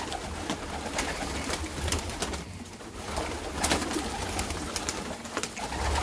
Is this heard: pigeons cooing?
yes